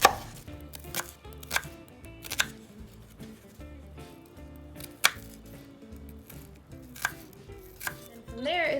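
A kitchen knife slicing food from the side while making tuna salad with sea shell pasta, sharp chopping strikes on a cutting board, irregular and close, some quick and some spaced apart.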